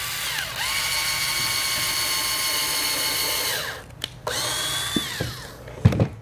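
Power drill driving screws into a bluebird house: a loud, close whir rising in pitch for one long run, then a shorter second burst, with clicks and knocks of handling at the end.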